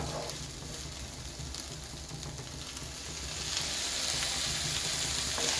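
Chicken thoran sizzling steadily in a hot pan after lemon juice is added, a dense continuous fry hiss that grows slightly louder toward the end, close and without talk.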